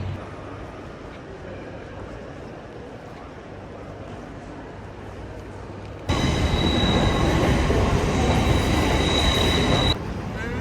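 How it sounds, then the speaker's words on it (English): Train ride toward London King's Cross, a steady rumble of rolling rail wagons with wheel noise that swells suddenly louder partway through, as if passing a structure, then eases back; no talk. "But let's get on the train now."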